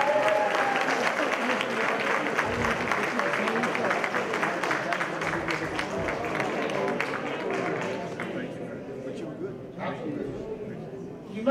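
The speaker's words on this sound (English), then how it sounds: "How about a round of applause?" A crowd at a jazz and blues museum tribute event applauds in a dense, sustained wash of clapping that holds steady, then thins and tapers off toward the end.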